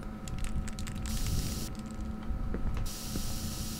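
Spray paint gun hissing onto walls in the horror video game The Backrooms 1998, two bursts of bright airy spray over a constant low game rumble and clicking footsteps.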